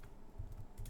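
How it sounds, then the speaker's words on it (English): Quiet computer keyboard typing, a few soft close keystrokes in a brief burst, faint and muffled. "I can't type tonight."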